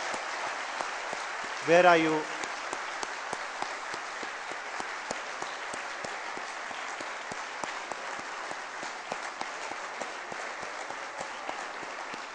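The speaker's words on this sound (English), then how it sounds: "I think a word of big applause goes to them" Sustained applause from a conference audience for student ushers, a steady patter of many hands throughout, with a brief voice calling out early on.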